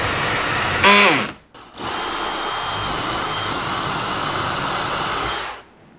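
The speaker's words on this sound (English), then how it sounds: "We want to drill in roughly halfway of this drill bit." A power drill whines up briefly, cuts out, then runs steadily for several seconds as it bores into wood, loud and close before stopping.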